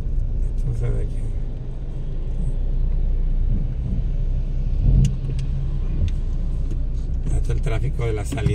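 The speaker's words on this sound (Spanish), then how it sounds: "Este es el tráfico de la salida de los trabajadores." Steady after-work car traffic rumbles past on a road in Mazatlán, engines humming and swelling as vehicles go by, with voices talking over it.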